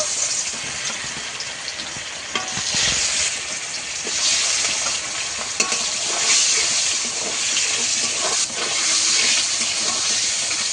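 Pieces of aar fish fry in hot oil with a steady, dense sizzle and hiss that carries on unbroken, with occasional louder crackles and no voices.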